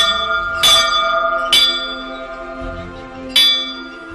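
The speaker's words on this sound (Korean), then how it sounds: "예배 시간 알리는 종인 것 같아요." A church bell in Nuuk, Greenland rings to call people to worship, three distinct resonant strikes spaced about a second or two apart, each leaving a long, shimmering hum that lingers between hits.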